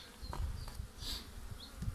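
Honey bees buzzing on a hive frame while a new swarm is fed, a soft, steady close drone with small rises and dips, and no talking.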